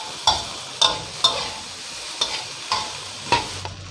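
Rice is stir-fried in a pan for a fried rice with Chinese kale and salted fish: rhythmic spatula strokes scrape and toss about every half second over a low, constant sizzle.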